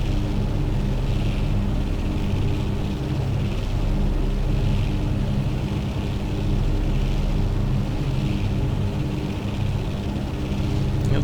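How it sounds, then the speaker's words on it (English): A Beech-18 Volpar's engines drone steadily in flight in X-Plane 11, a continuous loud propeller rumble with no voices. "the Beech-18 is a pretty cool little airplane."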